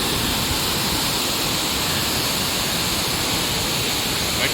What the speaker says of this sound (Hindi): You can see this is Chirappa waterfall.